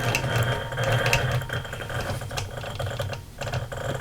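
A sewing machine stitches along a cross-hatch grid on a strawberry basket quilt block, its needle running in a steady, busy mechanical patter from start to finish with a brief dip near the end, no voices.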